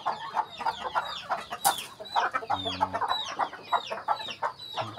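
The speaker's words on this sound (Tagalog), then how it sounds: "Manok" Chickens on a farm clucking in rapid, overlapping bursts with a brief crow-like call partway through, close and fairly loud, with no speech.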